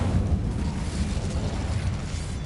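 An Incendio fire spell cast in the Hogwarts video game, a steady low roaring whoosh of flame that rumbles loudly and evenly for a couple of seconds without any voices.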